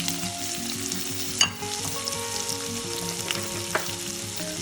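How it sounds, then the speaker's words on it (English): Onions and a chili mix fry in hot oil, giving a continuous crackling sizzle with a low bubbling rumble and one sharp clatter early on, with no voices. "The oil is hot. I'm now going to add the onions and the chili mix into this."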